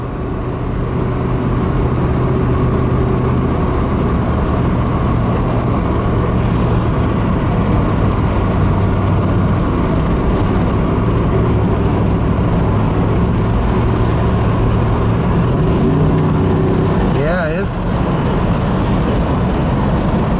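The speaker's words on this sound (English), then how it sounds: "I hear a whining. I don't know if that's power steering pump or tranny" A steady, loud whine comes from an old Chevrolet Suburban's power steering pump or transmission, droning continuously under engine and road rumble with a brief shift in tone near the end.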